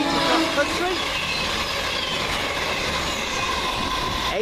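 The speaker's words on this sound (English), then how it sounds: "the late running 1V51 from Manchester Piccadilly to Bristol Temple Meads across country." A CrossCountry Super Voyager diesel train running late from Manchester Piccadilly to Bristol Temple Meads passes through Coseley, a steady loud rumble and roar with faint rail squeal, close by throughout.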